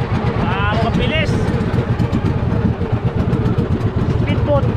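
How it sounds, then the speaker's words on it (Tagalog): A speedboat engine runs with a steady, throaty drone that rises and falls slightly, heard close and loud throughout, with voices talking over it. "Speedboat. Real na speedboat guys."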